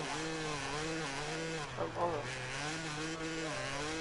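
A two-stroke motocross bike engine in the MXGP 2021 video game drones steadily with a buzzing, rising and falling pitch, close and loud throughout, with a brief dip in revs midway and talk over it.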